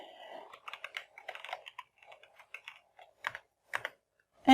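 Close typing on a computer keyboard: a fast run of key taps, then slower isolated presses and a final louder keystroke, with no voice.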